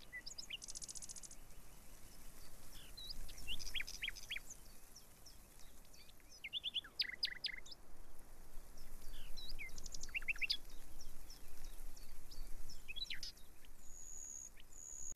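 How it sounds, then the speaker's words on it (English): Scattered bird chirps and calls ring out over a soft, steady bed of jungle ambience with a faint insect hum. "Different animals, wind, trees, and even birds all together make very pleasant sound."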